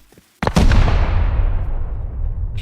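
Gunfire erupts during a raid in the game Rust, cutting in abruptly and turning into a loud, dense, sustained roar of shots and booms that fills the rest of the moment.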